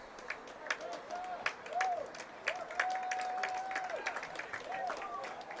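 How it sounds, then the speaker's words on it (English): Spectators at a Portland High vs. Westbrook varsity boys soccer game applaud a substituted player: light, scattered, fairly distant clapping under a voice, with a few faint whistle-like tones. "And a nice applause for Kosa Nedeljkovic as he comes out."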